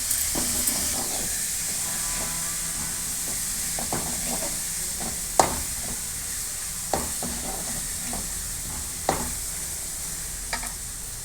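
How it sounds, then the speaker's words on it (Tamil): Food sizzles steadily in a hot pan, with a constant hiss and occasional scraping stirs and clinks of a utensil, while sautéing for mushroom gravy. "5 நிமிஷம் நல்லா வதக்கிட்டு இருக்கோம்."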